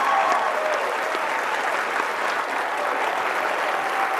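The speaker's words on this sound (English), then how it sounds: "I want to hear loud applause" Loud, sustained audience applause fills a large conference hall at CPAC, a dense continuous clatter of clapping with faint crowd noise and no clear speech.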